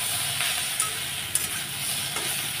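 Fried masala in a pan sizzles steadily as water is added for a fish curry, a close, even hiss with a few faint stirring clicks and no talk.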